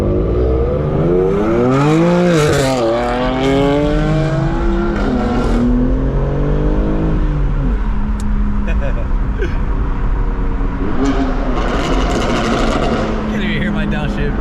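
BMW G80 M3 with manual gearbox and aftermarket exhaust accelerating hard, engine revs climbing through the gears with rising and falling tones, a sharp pop near the middle, then a quieter cruising hum with voices talking over it.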